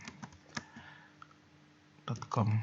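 Computer keyboard keys tapped while entering a web link into HTML code, a few sparse clicks early then a quick close burst of typing at the end, quiet room background.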